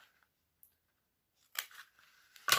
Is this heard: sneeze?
no